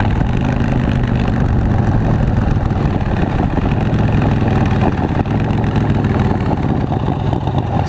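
A Harley-Davidson Breakout motorcycle with a big bore engine idling nearby, a loud, steady low rumble that continues unbroken throughout.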